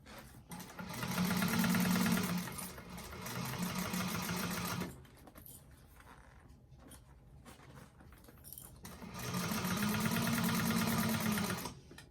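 Sewing machine stitching a bag, running in two sustained bursts of steady rapid needle rhythm separated by a quieter pause with light handling noises, close and fairly loud.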